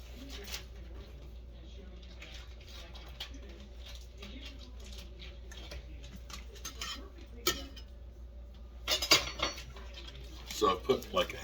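A spoon scrapes and taps in a pan as cream cheese is stirred into creamed chipped beef, soft clinks and scrapes over a low steady hum, growing busier toward the end, with faint talk nearby.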